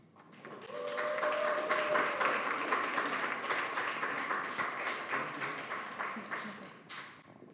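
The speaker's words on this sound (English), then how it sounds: "Give a round of applause to Lukas." An audience at a digital nomads meetup gives a sustained round of applause that swells quickly, holds steady for several seconds and tapers off. The clapping sounds fairly distant, with a few faint voices mixed in.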